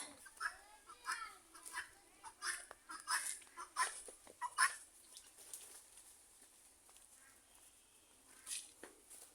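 Guinea fowl or chickens at a rural house calling in a faint, repeated series of harsh, bursting cries that fade toward the end, heard from a short distance in a quiet yard.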